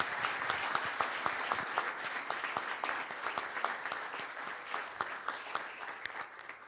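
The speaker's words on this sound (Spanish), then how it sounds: "Un aplauso, por favor." Audience applause at a panel on the economic potential of a wine-growing region, a steady patter of many hands clapping with distinct sharp claps standing out, fairly even throughout and slowly thinning toward the end.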